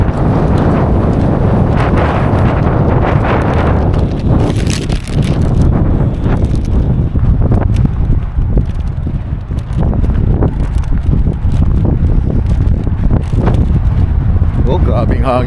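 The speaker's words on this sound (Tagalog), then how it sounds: "Oh, grabing hangin, oh." Strong gusting wind batters the microphone inside or beside a moving truck on a roadside detour, a loud continuous low rumble with bursts and brief lulls throughout.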